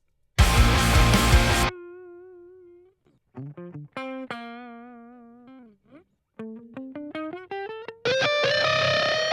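Electric guitar plugged straight in with no amp tone, played as a melodic line of sustained and bending notes, ending in a burst of loud, dense chords.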